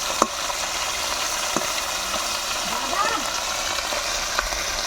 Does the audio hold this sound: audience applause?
no